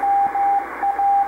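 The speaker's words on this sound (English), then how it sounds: "it's like a Morse code practice broadcast" A Morse code practice broadcast from W1AW on the 40-meter amateur band sounds through a radio receiver as a steady keyed beep tone, pulsing on and off over a bed of static hiss.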